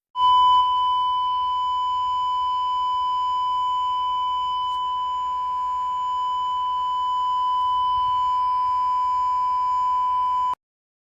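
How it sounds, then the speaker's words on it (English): A steady, piercing electronic abandon-rig alarm tone on a drilling rig sounds continuously for about ten seconds, a pure high beep that starts and stops abruptly. "Abandoned rig alarm."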